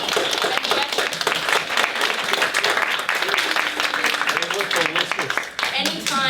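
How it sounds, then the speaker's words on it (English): Audience clapping at a charity's annual general meeting, a loud, sustained round of applause from a room full of people that holds steady across the whole stretch, with faint voices among it. "I'd just like to take a round of applause for Sylvia"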